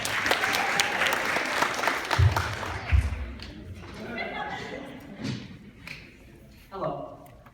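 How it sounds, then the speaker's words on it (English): An audience claps for a speaker named Ethan, a burst of applause that fades after a couple of seconds, with a few thumps and then voices talking over the thinning sound. "Let's give him one more round of applause."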